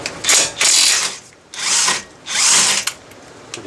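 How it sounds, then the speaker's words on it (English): An impact wrench with a 21 socket works on a sway bar link bolt of a 1999–2005 Volvo S60, firing in four loud rattling bursts with short pauses between them, close up and without talk. "So if you have an impact, this might just work."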